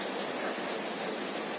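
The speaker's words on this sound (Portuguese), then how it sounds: "Muita chuva. Está chovendo muita." Heavy rain comes down as a dense, steady hiss that runs unbroken from start to finish, with no voices.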